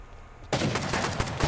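Gunfire during a raid in the video game Rust, beginning abruptly after a brief quiet moment and continuing as a rapid volley of loud shots.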